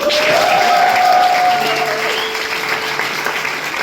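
Dense, loud applause from a live concert audience fills the room without a break, with a few faint voices and tones mixed in behind the clapping.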